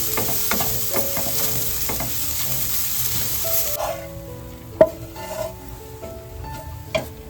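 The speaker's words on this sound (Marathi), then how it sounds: "आता एक एक गोष्ट ना ह्याच्यामध्ये सर्व ऍड करून आपल्याला व्यवस्थित भाजून घ्यायचंय." Grated coconut roasting in a pan for rice laddoos gives a loud, steady sizzle with scraping stirs. The sizzle drops away partway through, leaving quieter pan clinks and a few sharp knocks.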